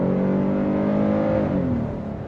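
A 2026 Hyundai Palisade SEL with its 3.5-liter V6 accelerates in sport mode, a steady loud engine drone rising in pitch through the gears, heard continuously from inside the cabin and easing slightly at the end.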